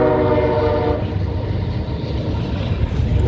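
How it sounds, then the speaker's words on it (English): A big train rumbles past in a small town, steady loud rolling noise with a sustained horn-like tone early on, continuous and close for the whole stretch without talk. "I hear a big train."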